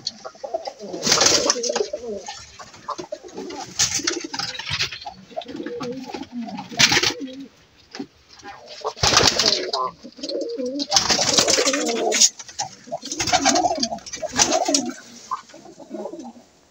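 Pigeons in a coop coo repeatedly in close, low, throaty phrases, several birds overlapping with short pauses between bursts.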